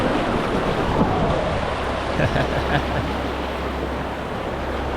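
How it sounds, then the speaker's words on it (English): Rushing, churning water fills the whole clip, a steady broadband roar with a low rumble, like fast rapids heard up close. "We started with some pretty decent little rapids."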